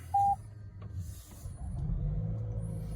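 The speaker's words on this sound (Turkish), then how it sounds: "arabayı çalıştırıyorum" A Toyota Corolla Hybrid starts with a short electronic chime, then a low idle hum rises as the petrol engine kicks in with a depleted battery, close and steady.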